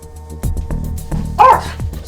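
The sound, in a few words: dog barking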